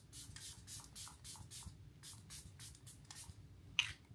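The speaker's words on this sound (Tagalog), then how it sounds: "you have to shake it a few times before you mist it to your skin" A white truffle facial serum mist sprays from a pump bottle in a series of soft, short hissing bursts, repeated quickly several times at close range with no talking.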